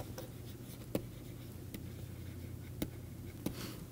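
Chalk or marker writing on a board in a lecture on linear maps, with faint scratching strokes and a few sharp taps against a steady room hum, no talking.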